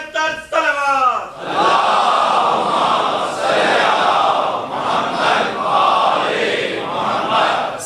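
A large crowd at a religious gathering calls out a salawat in unison, a sustained loud massed chant of many voices after a single rising call, filling the space for several seconds.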